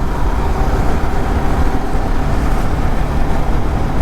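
A modified Yamaha R15 V3 motorcycle being ridden gives a loud, dense, continuous engine and road roar up close, steady throughout with no voices.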